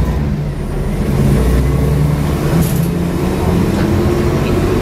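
A Mercedes-Benz O305 bus with PMC Mk 4 body from the Sydney Buses Waverley depot runs with a loud, steady engine drone and broad road rumble, heard up close and continuous throughout.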